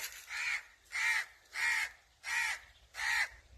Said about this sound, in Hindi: ये काँव काँव कर रहा है कौवा।